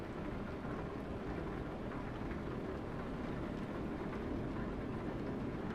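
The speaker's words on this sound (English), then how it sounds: "Hopefully this rain lets off, but it does add kind of a charm." Steady, dense rain keeps up throughout in Euro Truck Simulator 2 during a truck drive, a loud, even wash of rainfall with no break.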